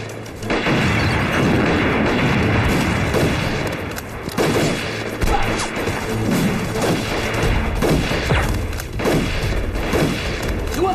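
War-film battle with heavy machine gun fire and explosions, loud dense bursts of rapid gunfire mixed with booming blasts and crashes, continuous and chaotic throughout, close and intense.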